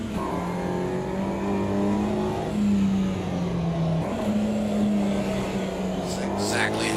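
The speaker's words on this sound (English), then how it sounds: "I really do like the engine sounds on these cars" Mini Cooper engines rev in the AMS2 racing game at Brands Hatch, a sustained raspy drone rising and falling across the throttle range with a brief shift near the middle, and faint squeals toward the end.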